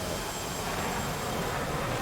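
An F-18 jet engine roars in the DCS flight simulator game, a steady, dense broadband rush of noise with no break and no voices.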